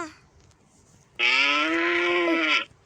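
A single cow gives one loud, close moo lasting over a second, following a few quiet seconds of background with faint distant voices.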